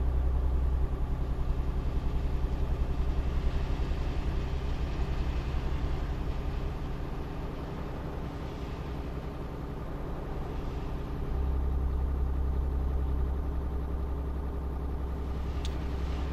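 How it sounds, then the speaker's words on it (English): Idling truck engine in the Euro Truck Simulator 2 driving game, a steady low rumble with faint traffic noise, constant and fairly loud throughout with no talking. "I can actually hear the engine and then the traffic and stuff now"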